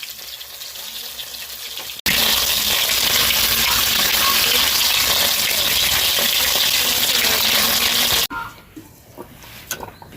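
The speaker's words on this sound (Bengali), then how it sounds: "তো এগুলো গোল গোল করে এবার ভেজে নেব হালকা করে।" Rohu fish balls mixed with onion, chili and spices sizzle loudly in a pan, a dense steady frying hiss that starts abruptly and cuts off after several seconds, with quieter kitchen noise before and after.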